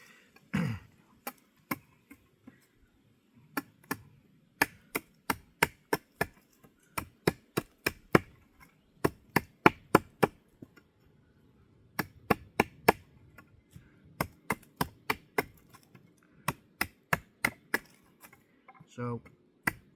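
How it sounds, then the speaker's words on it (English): Wojtek Tracker survival knife chopping wood with quick, flicking strokes, producing crisp, sharp knocks that repeat steadily in close succession, sometimes in quick pairs, with short pauses and a few breaths or throat sounds between. "I'm going to use this bit first just to do some flicky chops"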